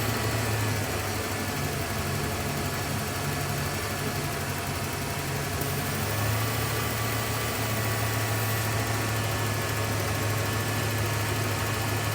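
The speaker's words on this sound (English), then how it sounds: "When I put the vacuum line back on and lower the fuel pressure, it starts to miss. It's running rougher when I do that." A car engine idling with its vacuum line reconnected at lowered fuel pressure, running rough and missing, a loud, steady close-up drone with a low uneven throb and no talking.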